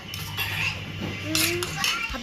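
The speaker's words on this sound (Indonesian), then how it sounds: "Ayo kita aduk mie rendang." Metal utensil scraping and clinking against a pan while rendang-flavored noodles are stirred, a few close clattering strokes over about two seconds with faint background voices.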